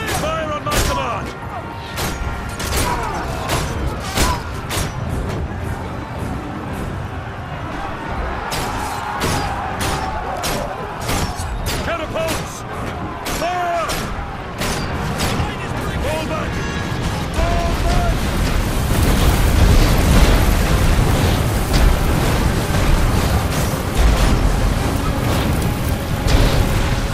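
Catapults fire and shells explode over a palace courtyard in Ryse: Son of Rome, a dense, continuous roar of booms and crashes with scattered sharp impacts that grows heavier and louder toward the end, under a battle din.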